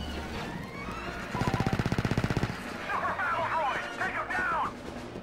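Rapid automatic blaster fire in Star Wars Battlefront 2 on Mygeeto comes in one sustained burst of about a second. Game sounds and chatter follow it.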